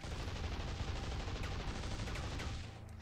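Rapid, continuous gunfire from the video game Metal Arms: Glitch in the System rattles without a break, dense and fairly faint, easing slightly near the end.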